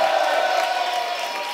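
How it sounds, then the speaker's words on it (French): A crowd at a French rap battle applauds and cheers, a dense steady wash of clapping, loud and close throughout with no clear talk. "Je veux qu'on les applaudisse"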